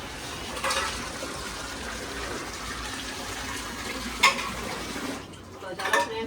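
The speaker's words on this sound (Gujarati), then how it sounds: "અહીંયા હવે આપણે વાસણ ઉટકી રહ્યા" Steady running water with scrubbing and rinsing, broken by a couple of sharp clinks of metal utensils knocking together.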